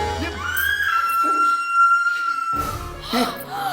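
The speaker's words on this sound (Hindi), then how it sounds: "ये चीख किसकी?" A woman's long, high, sustained scream rings out in a hospital horror story, loud and close, rising then holding steady before breaking off into agitated voices and dramatic sound effects.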